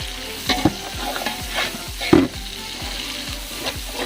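Onions, shallots and tomatoes fry in a pan with a close, continuous sizzle and a steady rhythm of scraping stirring strokes about twice a second, plus one louder clatter midway.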